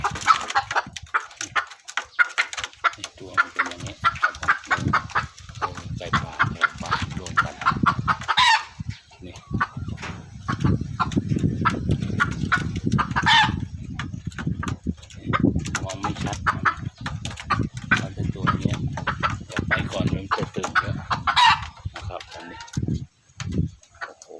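Red junglefowl and domestic chickens cluck and call close by, and roosters crow now and then. Someone talks over the flock throughout.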